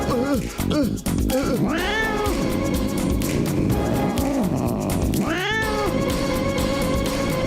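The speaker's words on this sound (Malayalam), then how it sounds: "നോക്കൂ, ദേ വരുന്നു ആ പൂച്ച." A cartoon cat meowing and caterwauling in loud, drawn-out wails with rising and falling pitch, repeated several times over a busy, noisy animated soundtrack.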